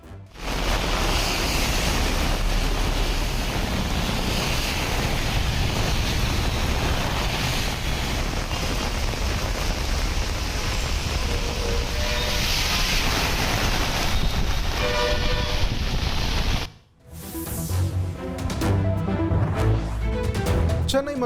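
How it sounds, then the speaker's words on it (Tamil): Strong wind roars with heavy rain during a storm in Chennai, a loud, dense, continuous rush that drops out briefly before returning with gusty buffeting. "பலத்த காற்றுடன் பல்வேறு பகுதிகளிலும் கொட்டி தீர்க்கும் மழை."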